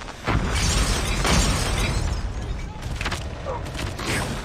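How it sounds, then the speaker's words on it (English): Grenade explosions in a video game: loud, dense crashing and rumbling blasts that fill the whole stretch, with several overlapping bursts and a swell of noise near the start. "grenade, grenade!"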